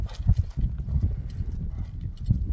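Horse hooves clip-clopping on the ground, a quick irregular run of close, fairly loud hoof beats with no talk.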